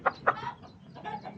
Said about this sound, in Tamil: தாய்க்கோழி உள்ள வாங்க.